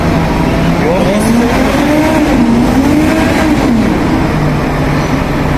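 A loud, steady Deutz-Fahr 9340 TTV Warrior tractor engine drones close by at an agricultural fair, with a rough, rumbling tone, its pitch wavering slightly up and down.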